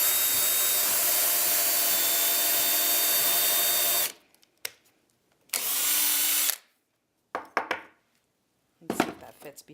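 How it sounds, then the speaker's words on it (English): A power drill bores a hole through a piece of wood while toys are made for parrots: a loud continuous whine for about four seconds, then a shorter burst, followed by scattered clicks and handling noises. "now we're going to take our drill, make a little hole in it"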